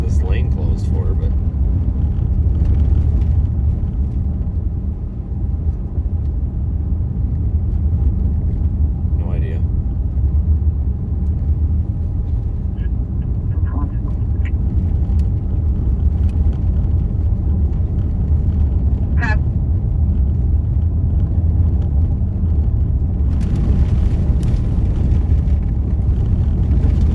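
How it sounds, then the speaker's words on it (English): A truck struggles up an iced-over highway ramp during a heavy snowstorm, heard as a continuous low, loud engine and road rumble over lane traffic, with a person talking throughout. "I don't know if that truck is stuck going up the ramp"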